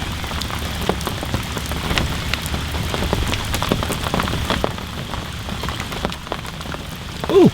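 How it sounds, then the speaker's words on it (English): Steady rain pattering on a surface at a carp fishing swim at Les Teillatts, a dense continuous hiss of drops close by with scattered louder taps throughout, no voices. "Certainly won't give up this rain."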